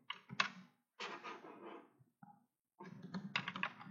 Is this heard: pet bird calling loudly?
no